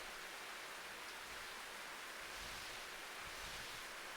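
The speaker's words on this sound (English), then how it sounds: "The patter of the rain mingled with the faint scritching of paint spreading across the canvas." Rain patters steadily as a soft, continuous hiss of drops, even and unbroken for several seconds with no voices.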